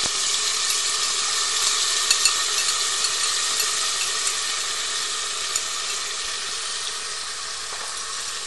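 Onions fry in a pan with an even, bright hiss of sizzling oil that runs steadily at moderate loudness, dotted with a few faint ticks and clicks, and no voices.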